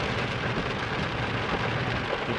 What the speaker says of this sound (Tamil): விடாமல் அடி அடினு அடிச்சு தாக்கின்னு இருக்குது இடியும் மின்னலும்